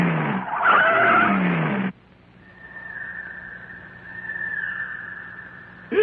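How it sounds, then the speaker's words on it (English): Trucks roll in within an animated cartoon, with a loud, screeching tire-squeal effect that breaks off sharply, followed by a long, thin whistling whine that wavers quietly before another burst at the end. "I want all those trucks in here right now."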